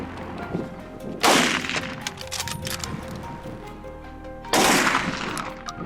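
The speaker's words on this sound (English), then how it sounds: "A volley of shots rang out." Two loud rifle shots fired at a wild boar in a field, about three seconds apart. Each is a sharp, close crack followed by a rolling echo tail that fades slowly.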